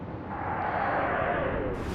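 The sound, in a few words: big explosion of a ship hit in the video game Atlantic Fleet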